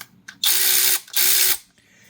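A SeeSii cordless power ratchet wrench with a socket fitted runs in two loud, close bursts of about half a second each, its motor and ratcheting mechanism whirring steadily before stopping.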